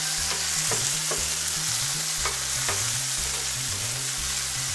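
Onions, garlic and tomatoes frying for chana dal, stirred in a pan: loud continuous sizzle with rhythmic scraping strokes of a utensil against the pan, close by and without talk.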